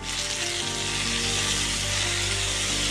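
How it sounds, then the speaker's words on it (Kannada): Lentils and grated coconut frying in a pan for thannikalu bas sambar, a close, loud, continuous sizzle without any voices. "ಒಂದು 10 ಸೆಕೆಂಡ್ 20 ಸೆಕೆಂಡ್ ಚೆನ್ನಾಗಿ ಫ್ರೈ ಮಾಡಿ"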